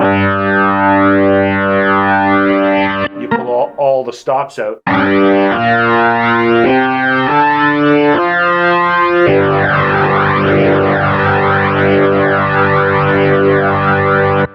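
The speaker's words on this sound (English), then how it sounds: "Overdrive, which is a little bit different sound than the actual amp gain." Electric guitar with a heavy-metal overdrive effect on a Legend Soul 261: loud, thick distorted chords, broken by a brief choppy gap with a few spoken words, then more crunchy sustained riffing.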